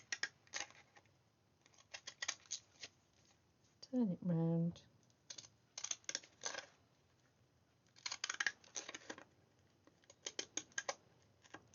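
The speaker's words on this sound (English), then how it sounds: "I don't have to worry about cutting a straight line because I'm going down the edge of my backing paper" Scissors snip through washi tape and its backing paper in short crisp bursts, several close cuts scattered among soft handling noises, with someone speaking briefly and a low humming tone.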